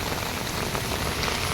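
Heavy rain pours down in Delhi, a dense, steady hiss of drops striking surfaces, loud and close with no voices.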